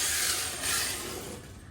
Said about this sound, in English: That's just the noise of the plastic wheels in the cold sliding on the asphalt.